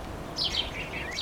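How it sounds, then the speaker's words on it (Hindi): Nestling birds in the nest call for food from their parents, with a few short, high-pitched chirping bursts over a faint background hiss. "घोंसले में चूजे चिल्ला चिल्ला कर माता पिता से भोजन मांगते हैं।"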